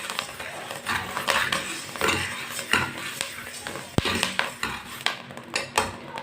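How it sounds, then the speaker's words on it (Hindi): A metal spoon scrapes and clinks against a very hot wok while wheat grains are roasted, with an uneven run of close scraping strokes and sharp taps and no talking. "इसी तरह चम्मच चलाते रहेंगे, नहीं तो एक साइड से ना जल जाएगी।"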